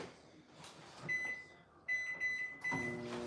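A microwave oven melting butter hums quietly, with three sharp electronic beeps from its keypad as it is set and started, a low steady drone underneath.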